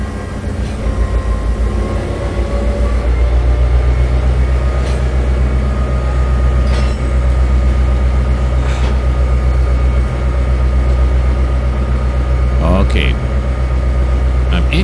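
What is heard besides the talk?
truck engine in the video game Trainz 2022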